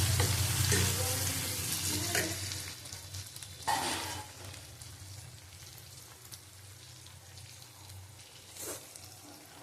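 Chicken and pointed gourd sautéing in a pan, with an even frying sizzle and occasional louder spatula scrapes and stirs that gradually ease off, with no speech.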